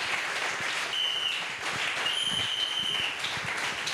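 A church congregation bursts into steady applause, a continuous wash of clapping with a brief high whistle or tone cutting through twice.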